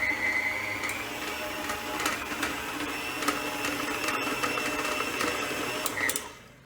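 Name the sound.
electric mixer mixing chocolate brownie batter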